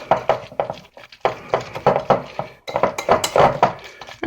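Meatloaf ingredients with oregano and Italian seasoning get mixed in a bowl, heard as a close, rhythmic series of clinks and scraping knocks of utensil against dish, with short pauses between strokes.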